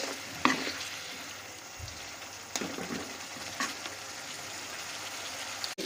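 Spice masala with tomato and onion frying in a pan for chela fish curry gives a steady close sizzle, with a few stirring clatters and scrapes.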